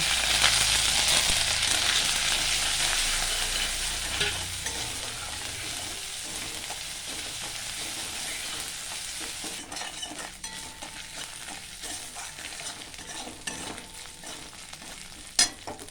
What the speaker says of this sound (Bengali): মশলা ভাজা হয়ে গেছে